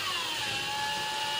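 A drill trims a brass cartridge case during ammunition reloading at a workbench, a brief steady high whine that fades slightly in pitch, close and alone.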